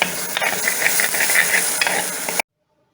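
Slit green chillies sautéing in a pan, a close, bright sizzle with scraping stirs for a couple of seconds before cutting to silence.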